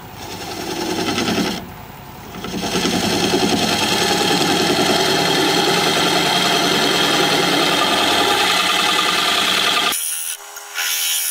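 Scraping tool working black walnut on a spinning wood lathe, a loud steady rasping scrape with a short pause near the start, running continuously before cutting off abruptly near the end.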